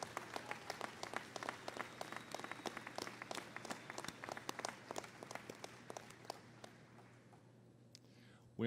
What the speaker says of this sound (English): extend a round of applause to those whose support and assistance have been so important to your college